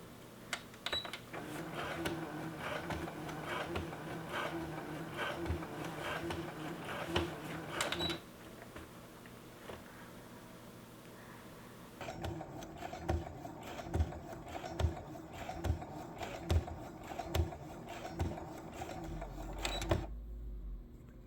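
Domestic sewing machine stitching up the legs of denim jeans, with steady rapid mechanical whirring in bursts, a pause in the middle, then more running, fairly close and alone.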